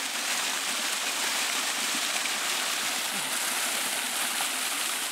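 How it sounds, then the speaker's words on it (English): Outdoor waterfall pouring steadily, a continuous broadband rush of falling water that holds even in level throughout, with no voices. "We call this the first fall, and then the waterfalls."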